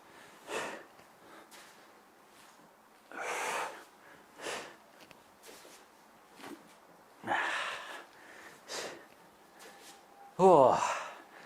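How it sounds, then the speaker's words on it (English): Heavy gasping breaths and sharp exhales recur in bursts during a weighted HIIT home workout, close and fairly loud, separated by quieter pauses. "I'm sorry for all the breathing, all the heavy noises. It's pretty hard work."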